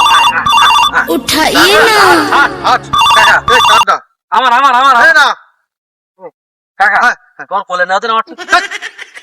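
A loud, melodic phone ringtone plays repeatedly in a Bangladeshi village comedy sketch, with pauses and bursts, mixed with chuckling and voices.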